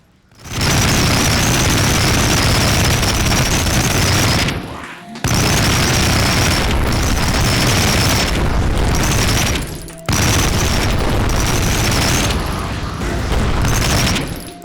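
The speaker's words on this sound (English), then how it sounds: "shreds through everything after a bit of spin-up time and is a blast to fire." A spin-up gun in the video game Project Warlock fires in long roaring bursts, a dense loud stream of rapid shots that cuts out briefly twice before resuming, with no voices.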